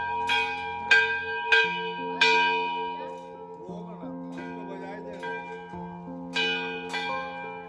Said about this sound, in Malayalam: അവൻ മണി അടിക്കാൻ നോക്കാണ്